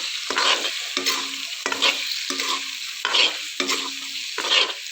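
Meat fries in a pan with Sunrise chicken masala, loud sizzling bursts repeating in a regular rhythm as it is stirred, close up and without voices.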